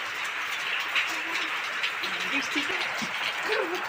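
Steady rain falls outdoors, a dense even hiss holding throughout at moderate loudness.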